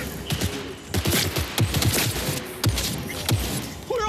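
Cyberpunk video game gunfire rattles in dense overlapping bursts of shots, loud and continuous across the whole stretch.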